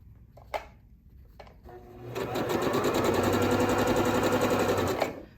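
A Pfaff sewing machine cycles its needle down: a few light clicks, then a steady mechanical whir that builds and holds for about three seconds before stopping with a small knock.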